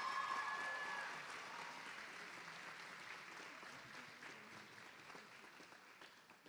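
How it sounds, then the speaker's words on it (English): Applause at a school awards ceremony fills the space from a sizeable audience, a steady, moderately loud wash of clapping that gradually thins and fades across several seconds with no talking. "one big applause for Zara again for the most valuable girl"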